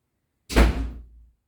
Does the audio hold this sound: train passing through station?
no